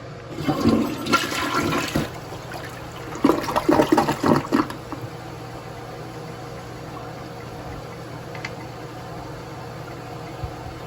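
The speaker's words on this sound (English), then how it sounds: "And I'll give you a flush." Project Source ProFlush toilet fitted with a Bemis commercial lidded seat in a home bathroom, flushing with a loud, close rush of water in two surges, then settling into a steady hiss as the tank refills.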